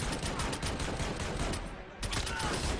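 Rapid gunfire from the video game Army of Two, a dense continuous barrage of shots that briefly dips, then resumes at full loudness.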